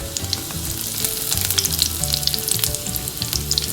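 Mustard seeds, dried red chillies and curry leaves fry in coconut oil, giving a loud, close, dense sizzle peppered with sharp popping crackles throughout, with no voices.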